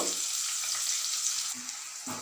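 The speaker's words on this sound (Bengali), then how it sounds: "পেঁয়াজটা আমি ভেজে নেব" Chopped onions fry in hot oil with a steady, close sizzle, joined by a couple of faint low stirring knocks near the end.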